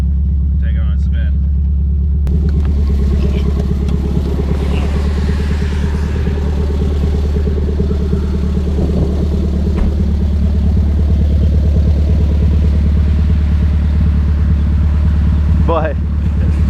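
Mitsubishi Starion Conquest car engine running steadily while driving after a fuel pressure adjustment, a continuous loud low rumble throughout with brief background voices.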